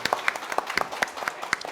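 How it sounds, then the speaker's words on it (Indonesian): Audience applause for Molly rings out in a quick run of sharp, uneven claps, fairly close and steady across the short burst. "tepuk tangan dulu dong buat Molly"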